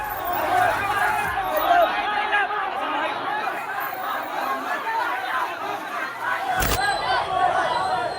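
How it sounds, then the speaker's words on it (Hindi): A large street crowd of hundreds gathers under banners and placards, a dense continuous babble of many voices chattering at steady loudness, with a brief sharp clatter near the end. "बैनर और तख्ती के नीचे सैकड़ों की भीड़ उतर गई"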